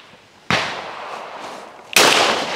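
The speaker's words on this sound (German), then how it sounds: "Flinten schießen macht mega Spaß" Two sharp, loud blasts from a Krieghoff K80 shotgun, each a sudden crack followed by a long rolling echo that fades slowly.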